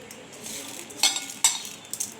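Mango pickle being mixed by hand with spices and sugar, giving soft close-up squelching and stirring with a few sharper clinks and scrapes toward the end.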